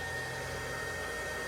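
A handheld hair dryer blows over wet alcohol ink on a painted rose, giving a steady, close, even whoosh with a faint whine and no breaks or talking.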